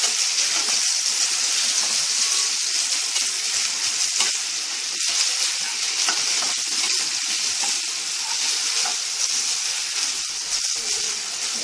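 Tengra fish curry masala with tomato and potato fries in a pan while being stirred, a loud, dense sizzle throughout with frequent scraping ticks from the spoon, close up and without speech.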